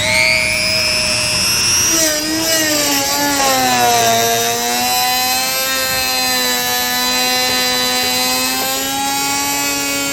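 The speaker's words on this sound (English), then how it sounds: "Take a rotary tool with a cutting blade on it, and we're just going to cut along that line" Rotary tool fitted with a cutting blade slicing through a plastic car bumper fascia on a 2019 Volkswagen, a loud continuous high-pitched whine with shifting pitch as the blade loads up, steady for ten seconds without speech.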